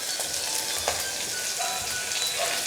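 Chopped carrots sautéing in a pan for pongal, a steady soft sizzle and crackle of frying that continues evenly throughout, close and moderately quiet, with faint occasional clicks and no talking.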